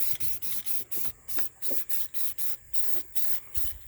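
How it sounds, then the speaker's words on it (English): Short rhythmic bursts of spray paint from a Rust-Oleum gloss can hiss onto the underside of an old Ram truck hood, about a dozen quick pulses in a steady even pattern, close and alone. "I cleaned the hood off, started painting it underneath."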